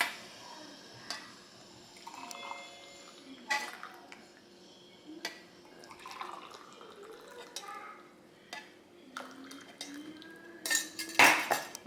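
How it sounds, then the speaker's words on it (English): Homemade gingerbread chai strained in a kitchen: scattered clinks of a metal strainer and cup, soft liquid pouring and stirring, ending in a sharp louder clatter, with no talking. "Now, what I'm gonna do here is I'm gonna strain my chai."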